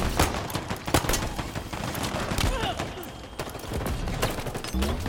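Machine gun fire in Halo Infinite arena play against bots, with dense rapid bursts and scattered impacts, loud and close, mixed with game effects and some voice over the top.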